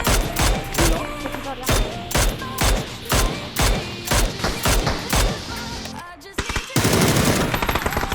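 Rapid automatic gunfire in a shooter video game, loud repeated bursts of shots in quick rhythmic volleys with brief gaps, ending in a dense noisy blast near the close.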